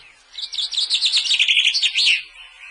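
A common chaffinch sings from an apple-tree branch by a hedge, a clear, close run of bright descending trills ending in a flourish, with no other sound around it.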